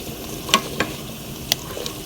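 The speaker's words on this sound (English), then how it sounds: "we're really boiling here now. A lot of the cranberries have popped" A pot of cranberries simmers on the stove, giving faint, scattered pops and crackles: a few sharp isolated clicks over a soft, steady bubbling background.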